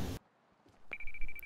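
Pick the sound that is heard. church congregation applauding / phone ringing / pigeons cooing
phone ringing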